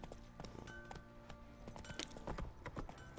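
Roach the horse's hooves clip-clopping in Witcher 3, a fairly quiet, uneven run of hoof strikes on the ground, several per second, with no speech over them.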